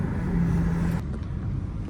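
A tuned BMW F30 330d xDrive diesel idles and is held against the brakes, a low steady engine rumble with a faint tonal drone that eases after a second, close and continuous with no speech.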